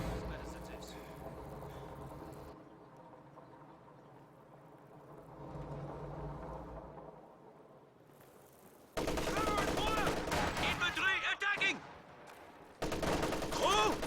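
MG34 machine gun fire in Company of Heroes 2, with dense, loud bursts of rapid fire in the second half after quieter battle noise, while a commentator talks.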